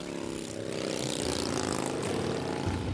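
Big-engine motorcycle launching from a standstill in a drag race, giving a loud, sustained roar that rises slightly in pitch as it pulls away, heard continuously and up close.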